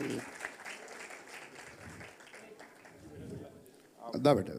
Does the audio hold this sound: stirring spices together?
no